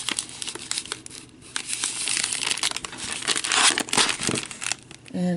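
Washi tape is handled close by while a Little Debbie brownie treat holder is being closed. Steady crinkling and light tearing rustles come in quick irregular bursts.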